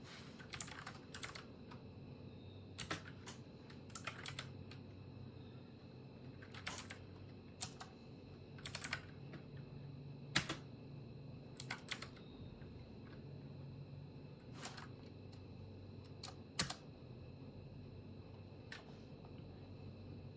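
Sparse, separated keystrokes on a computer keyboard while Linux terminal commands are entered, with single clicks and small clusters spread over a faint steady background hum.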